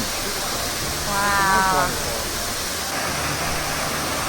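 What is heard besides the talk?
waterfall, Cascada Rio de los Cocos in Samaná, Dominican Republic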